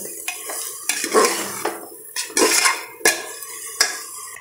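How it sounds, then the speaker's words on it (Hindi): Spoon stirring rock salt into pumpkin curry in a metal pot, a series of close scraping and clinking strokes with a faint sizzle beneath, no talking. "तो हम सेंधा नमक इसमें डाल देंगे और अच्छे से इसको मिक्स कर लेंगे"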